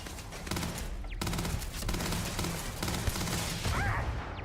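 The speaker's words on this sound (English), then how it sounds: "Did not anticipate we got turrets or something." Rapid automatic turret gunfire in Starfield, a dense, fast stream of shots hammering almost continuously at close range, briefly pausing and then resuming with scattered impacts.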